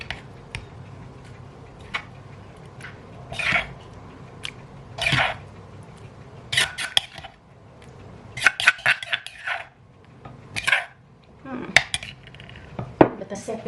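A spoon scoops food from a pot and clinks against dishes while steamed fish, vegetables and chili paste are served, giving sharp metallic taps and scrapes in irregular bursts, close and fairly loud.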